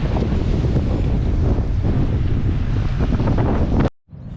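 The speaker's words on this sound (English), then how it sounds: "Careful that the waves aren't gonna come over those rocks and wipe me out." Loud, continuous roar of ocean waves surging over coastal rocks at Apollo Bay, heavy wind buffeting the microphone throughout before cutting off abruptly near the end.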